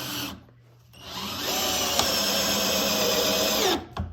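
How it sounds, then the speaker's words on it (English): An ALTOCRAFT 20V cordless drill drives a screw into solid oak with no pilot hole, one steady loud whir after a brief spin-up, ending with a quick slowdown as the screw seats. "see how good it's shooting screws into some solid oak"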